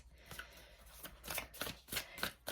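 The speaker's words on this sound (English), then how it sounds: "Let's pull some oracle cards." Oracle cards being shuffled by hand in a quiet room, a run of soft rhythmic riffling bursts and papery slaps, close and fairly faint, with no talking.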